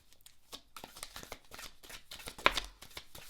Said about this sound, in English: We're going to shuffle on camera.